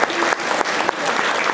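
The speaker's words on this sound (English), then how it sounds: "Garrod, big round of applause." Audience applause at a rambling house night of music and storytelling, a dense steady round of clapping from a packed room, loud and continuous with slight dips, no speech over it.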